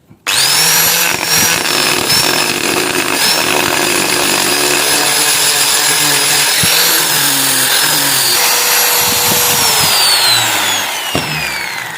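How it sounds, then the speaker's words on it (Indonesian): A power sander with sandpaper glued to plywood runs steadily and loudly throughout, with a high motor whine that shifts in pitch, nearby and continuous. "kita hidupkan mesinnya, kita kasih amplas ya."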